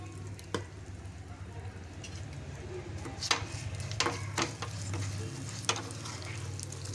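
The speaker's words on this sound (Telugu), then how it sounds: "ఎండుమిర్చి కరివేపాకు కూడా వేస్తున్నా అండి" Hot oil tempering with dried red chillies, curry leaves and asafoetida on a switched-off stove, a steady low sizzle with a few sharp crackles and spoon scrapes, close by and without talk.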